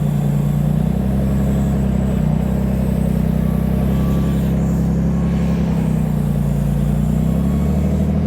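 A Portal rear-steer buggy in four-wheel drive on a sand trail at Sand Hollow, its engine a loud, steady low drone held close throughout, with no talk.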